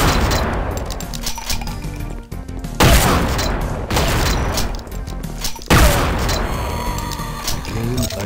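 Shotgun blasts aimed at pig cops in the Duke Nukem 3D video game, with several loud booming shots at irregular intervals, each followed by a brief crash of impact and game noise.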